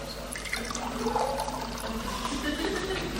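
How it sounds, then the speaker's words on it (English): Water is tipped from a container into a glass, making a continuous splashing pour that stays fairly loud and steady throughout, with a faint voice murmuring beneath it. "we're going to tip the water into the glass"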